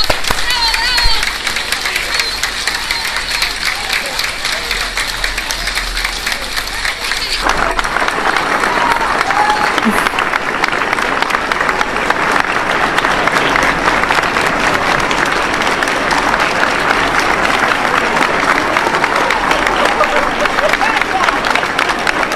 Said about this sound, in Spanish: Así fueron los aplausos espontáneos que les dio la gente en el aeropuerto a los brigadistas.